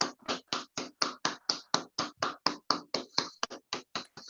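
Hands clap at a club meeting in a crisp, evenly spaced rhythm, about eighteen sharp claps in a few seconds, close and clear with no voices.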